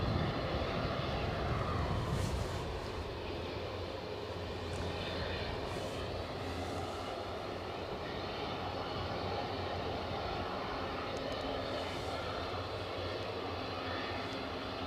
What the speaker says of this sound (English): there is the sound of a turbo prop somewhere over the far side